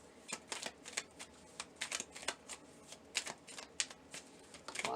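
Tarot message cards being shuffled, a run of crisp riffling bursts and soft slaps in an uneven rhythm, close and fairly quiet with no talk.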